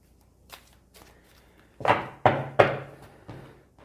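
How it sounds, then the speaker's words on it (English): A deck of tarot cards being shuffled close by, with a few soft taps followed by three louder riffling bursts and one more shuffle. "Didn't realise I was shuffling off camera, but you can hear that happening."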